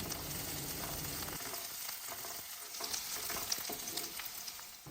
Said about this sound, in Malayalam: ഒരു ഉള്ളിൻ്റെ പകുതിയാണ് ഇപ്പോൾ കട്ട് ചെയ്തിട്ട് ചേർത്തിട്ടുള്ളത് ഇനി ഇതിനെ ചെറുതായിട്ടൊന്ന് വഴറ്റിയെടുക്കണം